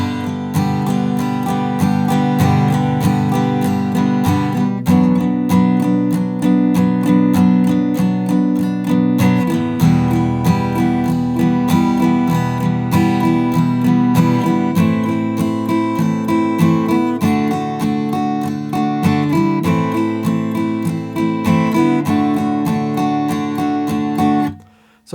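Guitar playing the chorus of a song, steady strummed chords with a ringing sustained tone, close and loud, alone without talk until it stops abruptly at the end.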